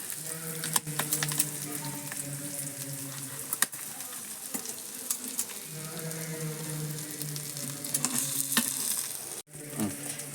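Sardines coated with black pepper frying in a pan, a steady soft sizzle and crackle of hot oil with scattered pops and clinks, close and moderately quiet, ending in a brief scrape.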